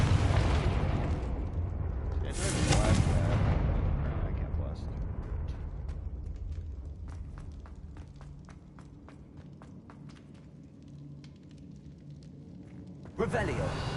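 A Confringo fire spell blasting in Hogwarts Legacy, a loud burst around the start followed by fading rumble, then footsteps and a later second impact, with a player talking over it.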